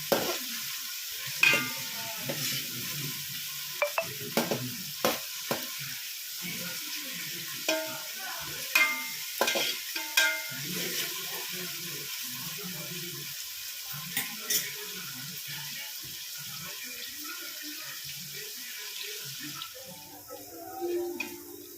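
Ginger and shallot paste with other ingredients for chicken biryani frying in a pan, a low sizzle under repeated scraping stirs and clinks, close by and moderately quiet, with no talk.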